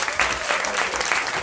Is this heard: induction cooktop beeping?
no